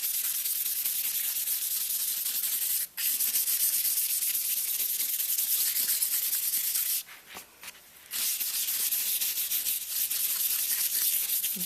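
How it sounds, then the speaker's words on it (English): A scouring pad scrubs across inked Yupo synthetic paper in a continuous close hiss, broken by two brief pauses. "another thing I tried last week, kind of cool, is using this scouring pad."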